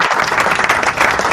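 A crowd-applause sound effect played from a button during a sports podcast: steady, dense clapping and cheering that runs continuously at full level for about a second, heard alone.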